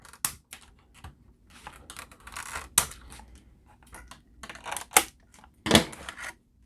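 Plastic bands on Power Rangers toy packaging are cut one after another. Sharp snips and plastic clicks come in separate bursts between quiet gaps, close and fairly soft.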